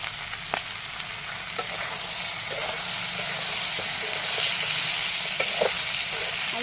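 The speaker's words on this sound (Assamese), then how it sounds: "এতিয়া অকণমান সময় এনেকৈ ঢাকি ঢাকি ভাজি ল'ম।" Chicken with taro flower and potatoes frying in a pan, a steady broadband sizzle with scattered sharp stirring clicks and scrapes, close and alone without speech.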